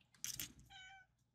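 A pet cat meows once at close range, a short rising-falling call following a brief rustle or clatter, with no talking.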